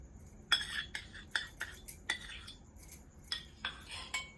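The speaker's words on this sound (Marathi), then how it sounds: "आता हे पूर्ण सगळं एकजीव करायचं आपल्याला मिक्स करायचं आहे" Metal spoon clinks and scrapes against a bowl while chicken is mixed with red chili paste and yogurt for chicken 65, a string of sharp, moderately quiet taps at an irregular rhythm.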